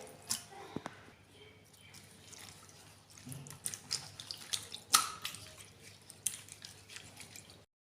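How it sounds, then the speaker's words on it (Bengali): Bottle gourd leaves being washed in water, with soft drips, squishing and splashing as the leaves are rubbed and handled, close and fairly quiet, with no talk. "লাউ পাতাগুলো ভালোভাবে ধুয়ে নিতে হবে।"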